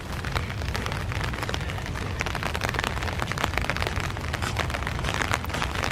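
Steady rain on a dark, foggy December morning hike in Iroquois Park, a dense, even hiss that holds at the same level throughout with no voices.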